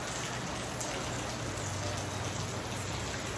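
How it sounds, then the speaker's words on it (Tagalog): Steady rain falling, a dense continuous hiss of drops on surfaces with a low rumble underneath, no voices. "Dito nagsisimula na yung ulan."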